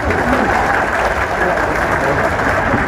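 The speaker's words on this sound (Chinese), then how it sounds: "花钱的掌声听一听" Cruise ship passengers on a trip to Naha, Okinawa, clap together as a crowd, a dense, steady wash of applause heard close, with faint voices mixed in.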